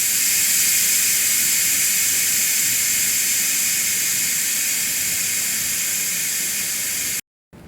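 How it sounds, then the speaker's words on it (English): Steam rushes from the quick-release valve of a Ninja pressure cooker cooking mushroom risotto, a loud continuous hiss that holds steady for several seconds and then cuts off abruptly. "I release the valve in the back, and the steam is coming out of it at this point."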